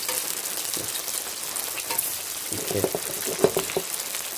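Battered chicken pieces frying on low heat in a shallow layer of oil, a steady close crackling sizzle with a few sharper pops, heard alone without talk.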